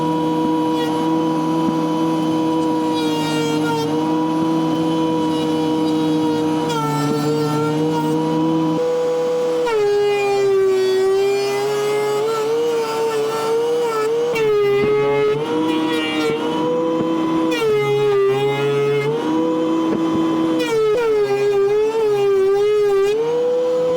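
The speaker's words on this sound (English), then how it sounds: "run them through a planer" Wood planer thinning lumber boards for a cornhole set, a loud, sustained motor whine that dips and shifts pitch as each board feeds through the cutter, repeating across several passes with no talking.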